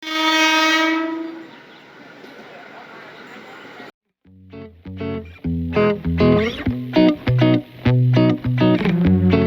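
A train sounds a long, loud horn at close range, then rolls past with rapid, rhythmic clattering of wheels over rail joints.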